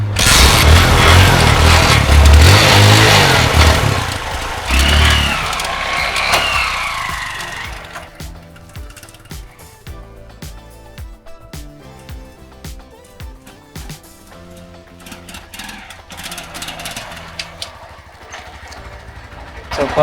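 A motorcycle engine starts and revs loudly after clutch cable maintenance, then drops to a quieter, uneven idle with intermittent clicks and handling noises; a voice speaks over parts of it.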